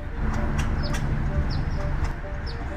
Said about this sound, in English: He thinks it sounds like a mom squirrel.